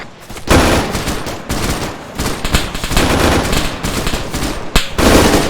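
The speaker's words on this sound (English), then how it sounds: "We could have been firing at our own guys" Rapid bursts of automatic gunfire in the military shooter game Arma 3, loud and close, with sustained volleys and short pauses throughout and no talking.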